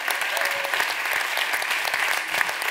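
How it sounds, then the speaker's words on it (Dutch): Warm, sustained applause from an audience, a dense steady patter of clapping hands. "Geef ze een warm applaus."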